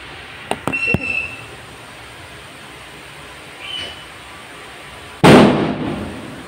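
New Year firecrackers and fireworks go off outdoors: a quick cluster of sharp cracks and pops, a fainter burst a few seconds later, then one loud, close explosion that rumbles and fades.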